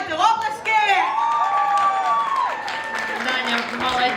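A live music event crowd applauding and cheering with whoops and shouts, mixed with a sung or spoken voice and lively tonal sounds throughout.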